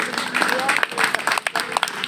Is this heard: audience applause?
yes